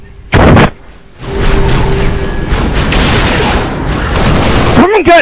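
Grenade blast in the Halo Reach video game, a loud booming rumble that rolls on for several seconds after a short sharp burst, with voices around it.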